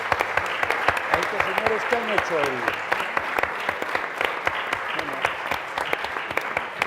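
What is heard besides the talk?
audience applause at book presentation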